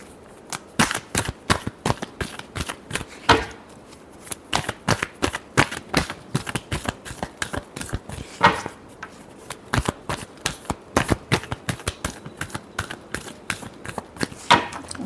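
Tarot cards are shuffled by hand in quick, continuous rapid riffles and soft slaps, close and fairly loud, the crisp papery ticks repeating steadily throughout with no speech.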